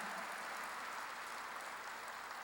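Steady, dense applause from a church congregation at a Wednesday worship service, a continuous wash of many hands clapping at moderate volume with no pauses.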